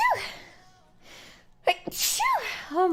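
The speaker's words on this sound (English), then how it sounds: "I need to sneeze." A sneeze sounds loudly in close quarters, preceded by a sharp inhaled gasp and followed by more vocal sounds and chatter from the same person.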